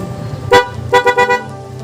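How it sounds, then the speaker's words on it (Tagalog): An aftermarket horn fitted to a Yamaha NMAX scooter blares close and loud, one short toot followed by three quick honks in a row. "ang lakas ng horn natin."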